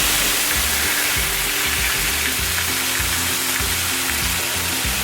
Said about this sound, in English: now we're just going to toast this corn up in this bacon grease